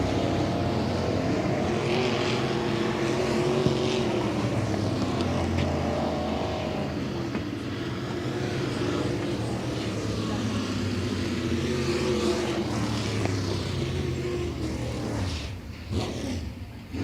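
Late model race cars from the World of Outlaws Late Model Series run hot lap qualifying at Senoia Raceway, with engines roaring steadily and loudly throughout and swelling and fading as the cars pass.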